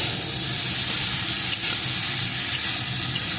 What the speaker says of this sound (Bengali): এখন মটরশুঁটিগুলোকে একটু ভেজে নেব